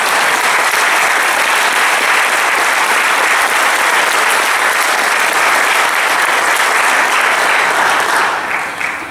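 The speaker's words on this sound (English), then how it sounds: "would you all give them a round of applause?" A seated audience applauds steadily and loudly for about nine seconds, a dense, continuous wash of clapping that thins slightly at the very end, with no talk over it.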